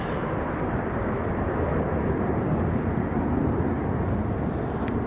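A Ryanair Boeing 737 MAX departs Leeds Bradford bound for Bucharest, its engines a loud, steady broadband roar that holds without a break for the whole stretch, with some wind buffeting on the microphone.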